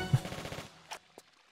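Gunfire from a shotgun in Tomb Raider IV: The Last Revelation, set in Alexandria: a rapid burst of loud shots in the first half, then three sharper, isolated blasts spaced apart with quiet between them.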